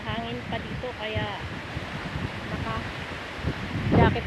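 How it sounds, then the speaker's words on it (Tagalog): Strong outdoor wind at a farm during harvest buffets the microphone as a constant rumble under a person talking, with a louder gust near the end. "Sobrang hangin."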